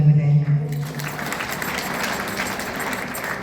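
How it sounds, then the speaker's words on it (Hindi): Children and guests clap for themselves at an award ceremony for a cultural knowledge exam, a moderate wash of applause that begins after a brief tone and continues evenly to the end. "आप लोग भी अपने लिए ताली बजाइए"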